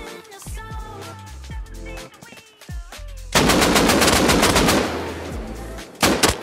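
AK rifle gunfire in the video game Rust, loud and close. Scattered single shots give way to a sustained rapid burst, and a final short burst follows after a pause.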